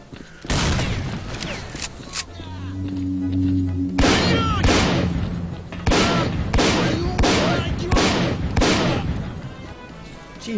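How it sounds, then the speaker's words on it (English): Grenade blasts and rapid gunfire in Stalker Clear Sky during a base assault, a loud string of sharp shots and booms in quick bursts, with a steady tone in the background early on. "Like someone's throwing a grenade at me"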